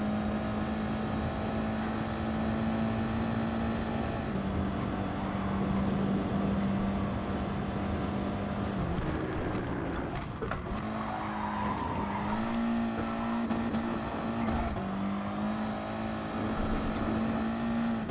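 Race car in GT Sport, its engine droning loud and continuous, the pitch dipping and climbing again as the car comes on the power through a corner.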